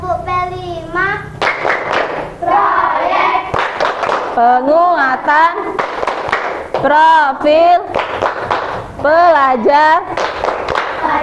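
Indonesian schoolchildren perform the tepuk P5 clapping chant for the Pancasila student profile project: a group of young voices chanting in a bouncy rhythm, punctuated by sharp unison handclaps, close and lively.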